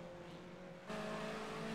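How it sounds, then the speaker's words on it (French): BMW 320 Cup race car leaving the pits at Zolder circuit, engine note rising abruptly after a quieter stretch, fairly faint and brief, no talk. "Il y a une voiture qui sortait des stands là."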